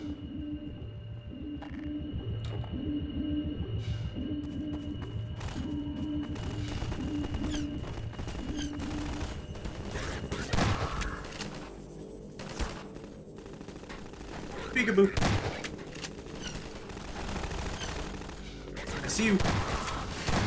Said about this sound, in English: It's a gunship.